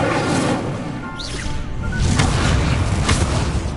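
A fire spell bursts in a Harry Potter–style duel, a loud whooshing boom with roaring low rumble and crackle sustained across a few seconds.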